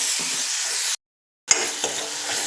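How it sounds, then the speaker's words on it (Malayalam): Tomatoes and curry leaves sauté in a pan with a close, steady sizzle and occasional spatula knocks, broken by a short total silence partway through before the frying resumes. "നമുക്ക് തക്കാളി കറിവേപ്പില ഇട്ട് കൊടുത്ത് ഒന്ന് വഴറ്റിയെടുക്കാം"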